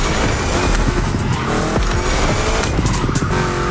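A heavily upgraded car in The Crew Motorfest, its engine mounted in the pickup bed, revs hard with squealing, skidding tires and shifting engine pitch, loud and close throughout.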